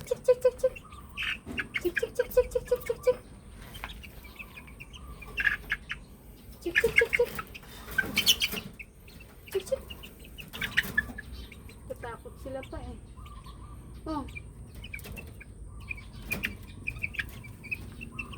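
Chickens cluck and chirp while pecking at papaya, melon and banana, with irregular short calls up close and a person talking intermittently over them.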